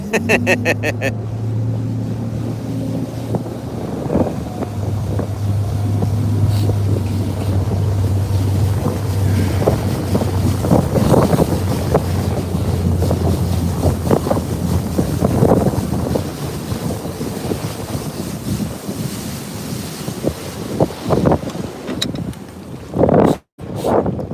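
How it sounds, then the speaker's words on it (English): Wind gusts roar and buffet a microphone on a boat out on a rough lake while bass fishing, with a low motor drone early on and scattered knocks and splashes. "now I'm out here in the wind, guys"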